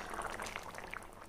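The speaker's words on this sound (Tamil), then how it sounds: "பாருங்கள் நல்லா கொதிச்சிருச்சு." Cauliflower paya curry boiling in a pot on a medium flame: dense, soft bubbling and popping, steady and close, with no other sounds.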